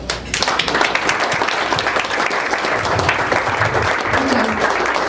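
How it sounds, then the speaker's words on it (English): Sustained audience applause at an NFL-related dinner event, a dense steady wash of many hands clapping that continues evenly for several seconds with faint crowd voices mixed in. "One more round of applause for everybody"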